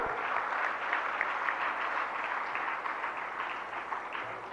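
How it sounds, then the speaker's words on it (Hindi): Steady applause from a crowd, dense and continuous clapping throughout with no pauses. "जरा तालियों के साथ अनुमोदना।"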